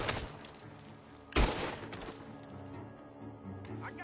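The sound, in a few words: video game gunshots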